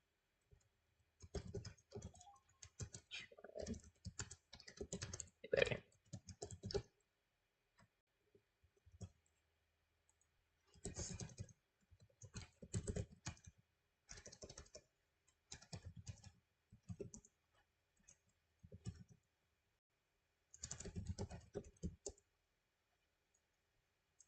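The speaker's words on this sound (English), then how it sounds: "sorry, I'm just typing" Faint, close computer keyboard typing comes in irregular bursts of rapid clicking separated by quiet pauses, with no talking over it.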